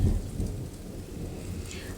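Steady rain falls during a thunderstorm while a low, rolling rumble of thunder sits underneath, soft and continuous with no voices.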